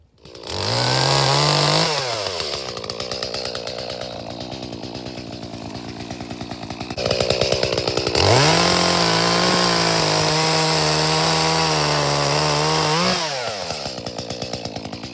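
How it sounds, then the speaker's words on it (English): A loud chainsaw roars close by, revving up and bogging down as it cuts a scaffold branch from a semi-dwarf Liberty apple tree, idling briefly between two long cuts. "the first thing I'm going to do is cut out that scaffold with the chainsaw"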